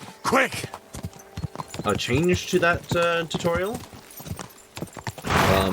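Horse hooves clip-clopping during a ride in the video game Kingdom Come Deliverance 2, a rhythmic patter running under someone talking throughout.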